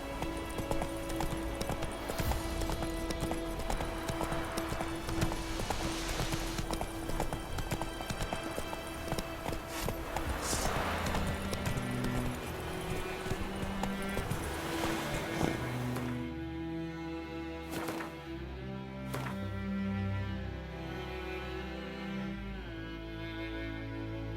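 Horse hooves in The Witcher 3 as Roach gallops, a steady clip-clop rhythm running over game music and ambient sound, with waves or water noise rising near the end.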